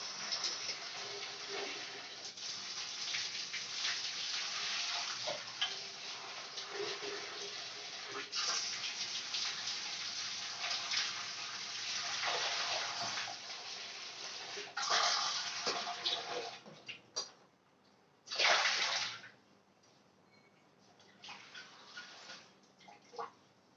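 Pointed gourd (potol) gets washed in water, with a running tap and splashing close by for most of the stretch, then a few shorter bursts of water near the end, with faint voices in the background.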